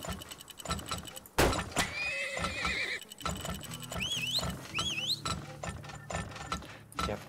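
Horses in the Turmoil oil-drilling video game neigh and whinny repeatedly over steady clip-clop hoofbeats, loud and close, with rising squealing whinnies in the middle and no talk.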